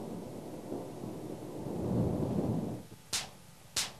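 Thunder from lightning: a long, rolling low rumble that swells and fades over several seconds, then a faint hiss of rain with two sharp crackling bursts near the end.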